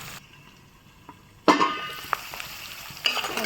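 Boiled potatoes frying on a low flame, a quiet pan that jumps into a louder sizzle with a sharp clink of utensils, followed by gentle crackling and another swell of frying.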